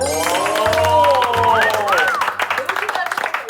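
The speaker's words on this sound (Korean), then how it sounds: "박수 박수" Students in a university food and nutrition classroom break into quick clapping that grows into sharp, distinct claps at the end, while voices talk and exclaim over the start.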